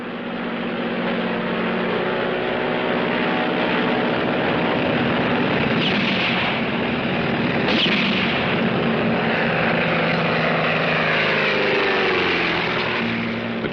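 A plane touching down on a runway, a continuous loud engine roar with propeller drone holding steady throughout, brief louder surges partway through, no voices.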